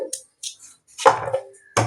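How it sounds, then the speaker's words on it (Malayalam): A knife cuts peeled sweet potato into pieces for boiling, giving a few sharp, separate chops with short gaps between them, close and moderately loud, with no talk. "അങ്ങനെ അത് പുഴുങ്ങാനുള്ള രീതിയിൽ അരിയുകയാണ്"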